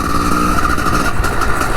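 A Honda 250CR enduro motorcycle engine idles unevenly with a carburettor set slightly high and unstable, a loud close rough drone with fluttering, irregular pulses and no voices over it.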